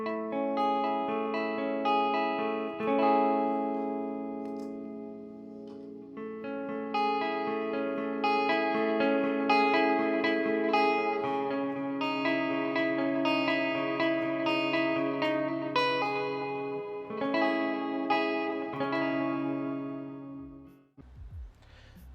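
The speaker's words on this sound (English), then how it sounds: "the reverb and tremolo circuits work" Electric guitar played through a mid-to-late 1960s Sears solid-state amplifier with reverb and tremolo engaged, a steady stream of strummed chords and melodic notes with a shimmering, echoing tail, loud and clear with no talking.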